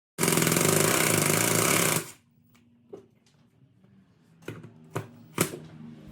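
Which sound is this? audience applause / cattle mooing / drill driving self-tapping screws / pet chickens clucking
drill driving self-tapping screws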